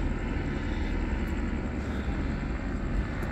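A police helicopter, Star 9, circles overhead during a car chase response in Hemet, a steady low rotor-and-engine drone that fills the air continuously at moderate loudness with no talking.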